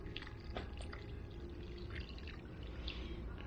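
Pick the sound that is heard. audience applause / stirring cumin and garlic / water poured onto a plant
water poured onto a plant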